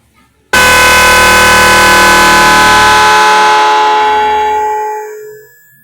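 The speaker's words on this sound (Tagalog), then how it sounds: "Mahaba yung tunog ng busina." A loud motorcycle horn, newly installed and wired through a relay, bursts on suddenly and sounds continuously for several seconds, steady and harsh, then tapers off at the end.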